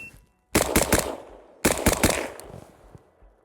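A rifle topped with a Vortex AMG 1-10x24 LPVO fires two loud, close bursts of rapid shots, each a quick string of sharp cracks with a ringing tail, separated by a brief silence.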